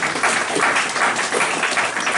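Steady applause from a church congregation fills the room, many hands clapping in a thick, even burst that stays loud and close throughout the short stretch.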